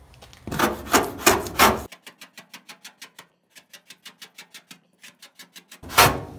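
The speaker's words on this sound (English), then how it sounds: "Original logos being scraped off while you watch." Paint being scraped off a vintage car with Goof Off solvent: a few loud, rough scraping strokes, then a quick run of short, evenly spaced scratches, close up and with no talk.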